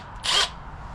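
A power drill bores a hole through a glued skin-on-frame kayak frame in one short, loud burst of about a quarter second, close up and alone.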